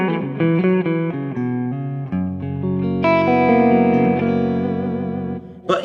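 An electric guitar with Lambertone Lambertron pickups plays a clean tone through a brown face Fender amp, picking a run of ringing notes and then letting sustained chords bloom with shimmering modulation, loud and alone.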